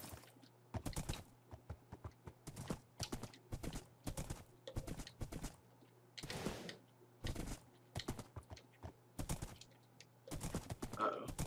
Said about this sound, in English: we are taming a horse